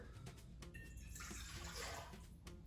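Water is poured into recipe ingredients in a home kitchen, a brief gurgling splash lasting about a second. It is quiet and close, set among light handling noises.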